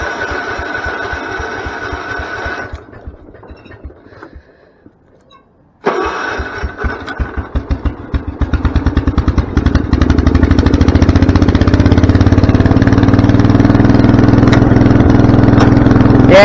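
A 110/112 garden tractor engine with a PTO clutch runs unevenly and cuts out for a few seconds, then restarts and climbs to a loud, steady close-up drone with slight sputtering beneath it.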